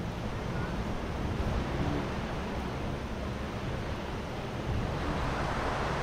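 Steady broadband surf rolls in on Cha-Am Beach in Phetchaburi, a continuous wash of waves mixed with wind rumble against the microphone, with no voices.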